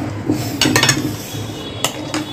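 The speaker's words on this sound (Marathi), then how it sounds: "आता चांगली तिला अशी मिक्स करून घेऊया।" A spoon scrapes and clinks against a metal pan while shev bhaji is mixed, giving a few short bright metallic knocks and rattles close by, with quiet gaps between strokes and no talking.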